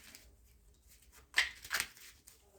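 Tarot cards riffle quickly in two brief close bursts, a crisp fluttering shuffle against a quiet background.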